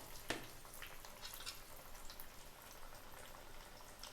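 Bread and potato balls frying in hot oil make a faint, steady bubbling sizzle with scattered tiny crackles and pops, heard alone and quite quiet.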